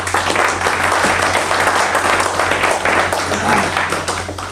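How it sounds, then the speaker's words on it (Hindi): An audience at a one-day leadership programme event gives sustained applause, a dense wash of clapping over a steady low electrical hum in a large hall. "मैं आपकी जोरदार तालियां चाहूंगा"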